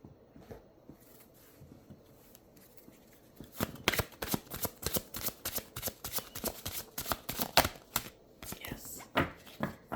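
Angel tarot cards shuffled by hand, beginning quiet and sparse, then a steady run of crisp, close riffling flutters and soft slaps continuing for several seconds.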